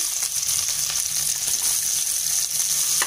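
Chopped onions hit hot sesame oil with mustard seeds, cumin and green chillies in a pan, producing a loud, continuous crackling sizzle that stays dense and steady throughout.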